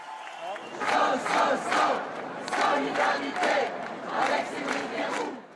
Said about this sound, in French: Acclamé par la foule, visage serein, Cédric Herrou arrive au palais de justice